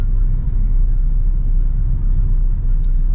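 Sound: slow road traffic of cars

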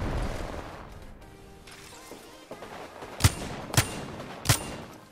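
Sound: gunshots in Apex Legends video game

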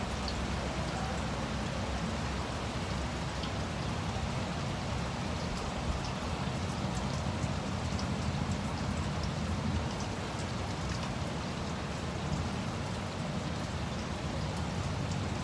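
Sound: rain falling

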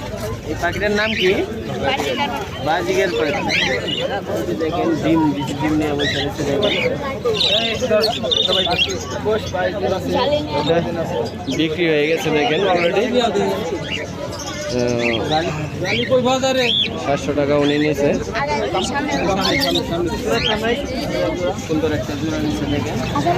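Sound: pigeons cooing at a bird market

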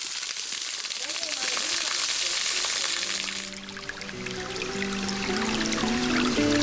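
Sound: water trickling in a ravine

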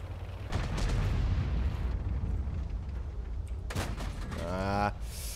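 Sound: tank cannon fire in video game World of Tanks

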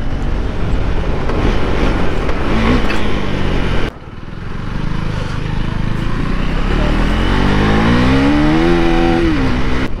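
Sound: KTM Duke 390 2024 single-cylinder motorcycle riding

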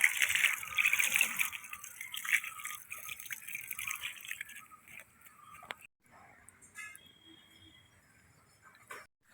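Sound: sprinkling water onto dry leaf compost

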